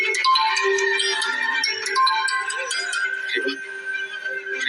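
A mobile phone ringtone plays in a domestic TV drama scene, a steady melodic electronic tone with chiming notes that rings continuously, with a voice speaking over it.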